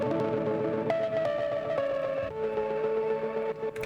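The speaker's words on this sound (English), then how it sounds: "The first two are analog lab presets, and more specifically, I think they are both from Pigments." A Pigments synth preset from Analog Lab plays alone, with a warm sustained tone that moves through a few held notes.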